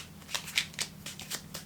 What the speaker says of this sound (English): So I'm gonna just shuffle the cards to make sure that it's fair.